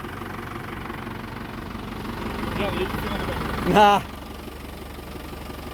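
A tractor engine labours under a heavy load, a low steady rumble and vibration with a brief louder surge near the end; someone briefly speaks over it.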